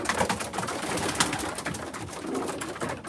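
Racing pigeons coo in a loft, soft low throaty murmurs repeating amid shuffling and rustling close by.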